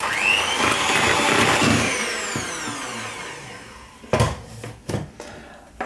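An electric whisk whirs loudly in a bowl of eggs and sugar for a birthday sponge cake, a steady close motor whine that fades, then a few sharp clatters and bumps as it moves.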